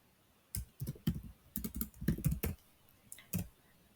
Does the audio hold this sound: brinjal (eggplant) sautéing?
no